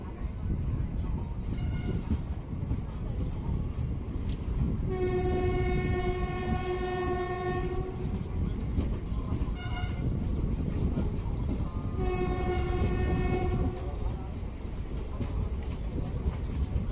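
A Guntakal–Tirupati passenger train pulls out of Cheruvu station, sounding two long horn blasts over a constant loud rumble and rattle of the coaches, heard from inside the train.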